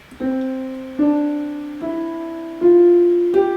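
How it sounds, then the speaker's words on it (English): Five single piano notes are played one after another with keys held down, each ringing on and overlapping into the next instead of stopping cleanly. "Do you hear how the notes are blending into one another?"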